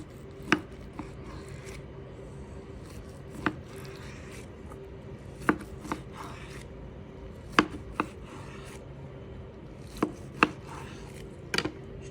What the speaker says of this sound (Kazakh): Ал біз осыны енді бөлек-бөлек осылай тураймыз.